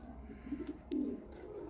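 A pigeon gives a few soft, low coos close by, a short burst followed by a louder rolling coo, with quiet room noise around it.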